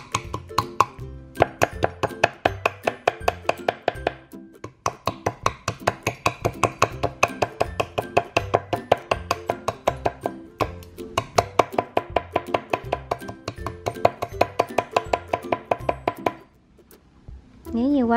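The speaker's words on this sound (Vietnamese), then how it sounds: "Đầu tiên ếch các bạn sẽ chặt riêng đùi." A cleaver chops frog legs on a cutting board in quick, sharp, regular thwacks. The strikes run steadily for several seconds, break briefly once, and then continue.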